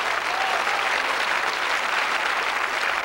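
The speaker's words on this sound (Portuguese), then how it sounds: "Vamos dar um aplauso poderoso ao Senhor Jesus." A church congregation breaks into a steady wall of applause, many hands clapping together loudly and evenly for about three seconds with no pause.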